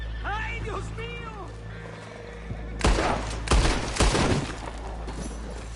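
Gunfire in Red Dead Redemption 2 bursts out in a quick cluster of loud, close shots in the second half, after an opening of distorted voices and game sounds.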